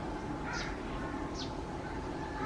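A crow calls from the top of a backyard cypress tree with two brief caws about a second apart, faint and somewhat distant over a steady broadband outdoor hiss.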